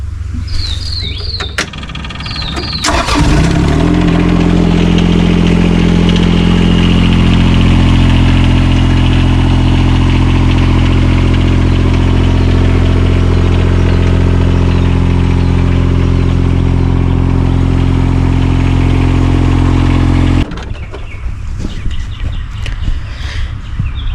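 SDLE20 mini excavator engine turns over after a few clicks and settles into a loud, steady idle for most of the stretch, then shuts off near the end.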